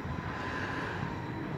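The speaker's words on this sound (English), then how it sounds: "Listen to the plane." An airplane passing overhead, a steady broad engine roar that holds level and fairly loud for the whole short stretch, with no voices.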